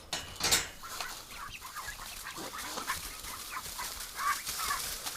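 Farm poultry cluck and quack in a flock near a duck with an infected eye, several birds calling in short bursts, close and fairly loud, with no talking.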